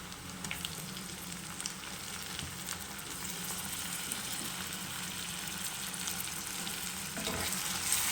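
Onion frying in a pan with ginger and garlic, stirred steadily, giving a continuous close sizzle with scraping strokes throughout and no talk.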